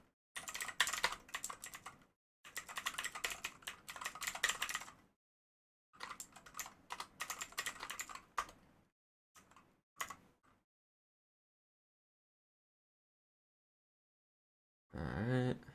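Quiet computer-keyboard typing while writing a code test, coming in clustered bursts of keystrokes separated by pauses, then a long silence before a brief final burst.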